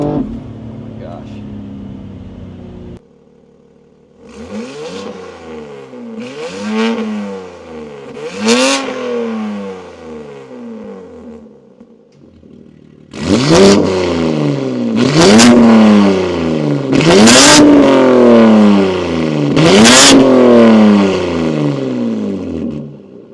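A powerful 800hp BMW G80 M3 exhaust revs and accelerates repeatedly, each throttle burst rising in pitch before dropping back, growing louder in the second half.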